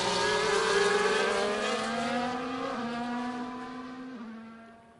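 F1 race cars screaming along the main straight at Bahrain in a league video game race, a loud, steady high engine whine rising in pitch with two quick gear shifts before fading away.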